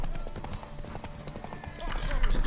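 A horse gallops in The Witcher 3: Wild Hunt, with rapid rhythmic hoofbeats under someone talking and game music, the pounding rising toward the end.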